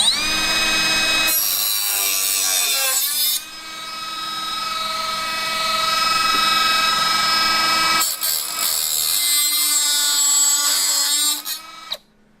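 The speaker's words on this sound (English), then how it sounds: "Looks like a big Dremel." Large Dremel-like rotary tool cutting and grinding on a Nissan 240SX S13 being prepared for firewall welding. A loud, high-pitched whine runs close up in two long bursts, with a quieter, lower-pitched stretch between them. No talk.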